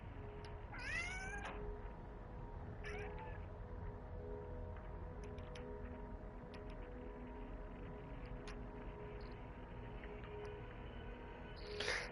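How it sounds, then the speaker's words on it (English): A cat in Assassin's Creed Syndicate meows a few times, rising and falling cries spaced out over a low steady game ambience hum, with quieter mews later on. "That's a cat."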